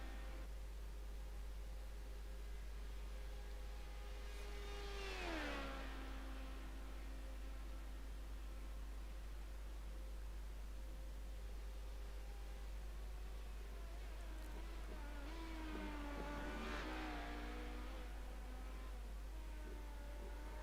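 HPD LMP2 race car engine heard onboard during a lap in a racing video game, a steady high engine drone with two sweeping downshifts and re-accelerations, faint under constant low hum.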